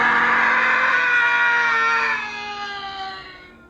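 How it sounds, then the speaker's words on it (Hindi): A man lets out a single long, loud, drawn-out scream in the night, a raw wavering cry that holds strongly and then slowly trails away. "किसी आदमी के जोर जोर से चिल्लाने की आवाज"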